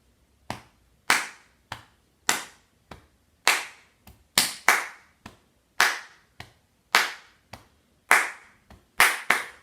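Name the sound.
rhythmic hand clapping as body percussion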